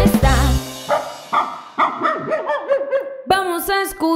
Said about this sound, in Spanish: El perro que en mi casa está, vamos a escuchar